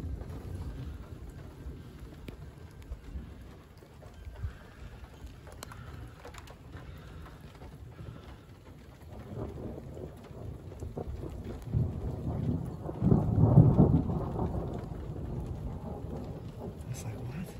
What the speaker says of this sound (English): I can hear the thunder all over the place. Comes the rain.